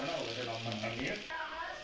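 Potato pieces frying in a pan, a steady faint sizzle with a few soft scrapes and stirring clicks, quiet and close, with a voice speaking over it.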